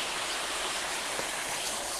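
Linda Creek flows past a fallen tree in a continuous, even rushing wash of water, nearby and unbroken for two seconds, with no voices.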